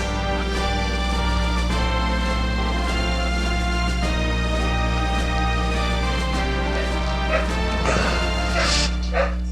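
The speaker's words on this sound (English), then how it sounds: "There come the dogs as usual" Dogs bark and yelp in the PlayStation game Super Robot Taisen Alpha Gaiden, repeated sharp bursts over a steady droning music loop and crashing effects, with no one talking.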